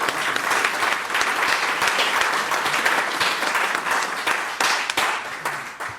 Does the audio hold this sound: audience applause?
yes